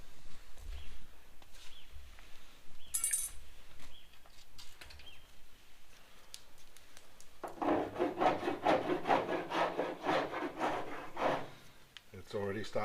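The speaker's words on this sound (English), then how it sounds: "I'll start sanding down these repairs here" Filler repairs on a Ford XY sedan body are sanded by hand, quiet scattered rubbing at first, then a steady, louder rhythmic rasping of strokes in the second half, with faint bird calls in the background.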